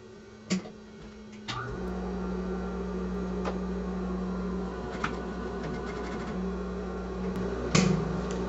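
Sewing machine stitching plastic piping onto a fabric scrap for a zippered pouch, starting after a couple of clicks into a steady, close motor hum with occasional ticks and knocks.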